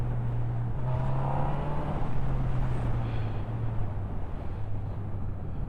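A 2023 Honda CB1000R motorcycle pulls steadily under acceleration, its engine drone holding a low, even note that rises slightly and then eases, close and continuous with wind rush behind it.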